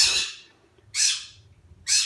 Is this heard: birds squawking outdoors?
yes